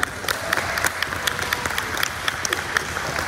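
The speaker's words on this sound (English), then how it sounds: "So one more round of applause for all of them." An audience at a Poetry Out Loud poetry competition applauds the class-level winners, giving a full, continuous round of clapping from many hands, fairly close and unbroken from start to finish.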